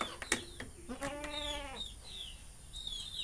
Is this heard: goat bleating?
yes